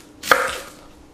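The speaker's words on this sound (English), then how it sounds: "we're going to start off by cutting off the ends of the onions" A knife chops once through the end of an onion on a cutting board, a single crisp, close cut that rings out briefly and fades.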